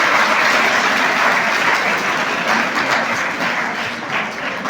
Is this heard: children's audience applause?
yes